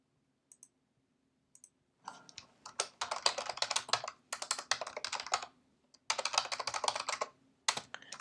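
Computer keyboard typing, close and clear, in quick bursts of clicking keystrokes separated by short pauses, with a few isolated taps at the start and no talking.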